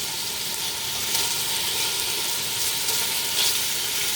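Lamb pieces searing in a hot pan for a Spanish stew, giving a steady, close, fairly loud sizzle with hissing steam that runs unbroken throughout, with no talk over it.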